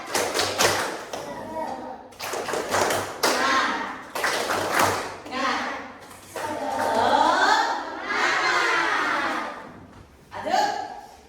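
Children in an Indonesian classroom perform a rhythmic clapping chant, bursts of sharp claps alternating with chanted voices in a loud, close, patterned rhythm.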